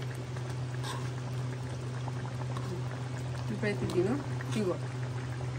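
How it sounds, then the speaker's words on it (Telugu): Chicken curry with leg pieces simmers in a pot, a steady bubbling and gurgling beneath someone talking, with a low hum underneath. "కొంచెం ఉడకాలి, ఉడుకుంది కొంచెం"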